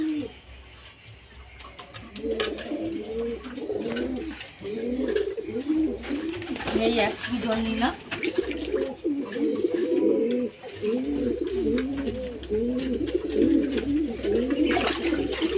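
Pigeons coo in a steady, rhythmic stream of low, rolling calls for the whole stretch, close by and fairly loud, while a person speaks briefly over them.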